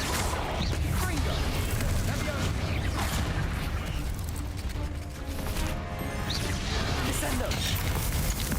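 Repeated fire-spell blasts from a video game, loud crackling and booming bursts layered over dense game sound effects, with a voice heard speaking through the clip.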